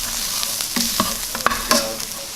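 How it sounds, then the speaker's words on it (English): Flour and garlic cook in a pot for cream of chicken soup, with a steady soft sizzle and several scraping, knocking stirs of a utensil against the pot, close and with no talk. "we're gonna add in some of this flour and cook it for about 2 minutes"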